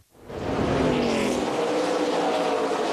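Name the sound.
K&N Pro Series stock cars racing at Iowa Speedway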